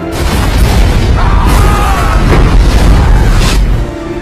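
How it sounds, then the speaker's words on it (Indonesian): A massive bombing blast from a war film set during a Nigerian civil conflict roars as a dense, sustained rumble, loud and close with rolling low booms and debris-like crackle throughout. "terjadilah ledakan super dahsyat yang meratakan semua pasukan"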